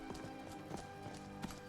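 Horse hooves clip-clopping in the video game Skyrim, a steady rhythmic series of hoof strikes close by over a constant layer of game music and ambience.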